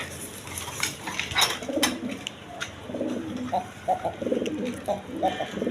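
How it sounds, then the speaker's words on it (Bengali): A pair of big red Lahori pigeons coo nearby, with low, throaty coos repeating in short phrases over a busy, noisy background that may include indistinct voices. "এক পেয়ার রেড কালার আপনার লাহোরি কবুতর আছে"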